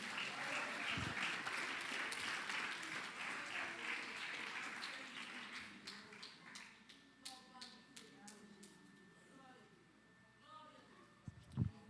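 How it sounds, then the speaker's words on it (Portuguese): A congregation claps in a church service, dense applause that fades over several seconds into scattered claps, with a voice speaking over it and a sustained tone near the end. "que as palmas dos irmãos louvem ao Senhor"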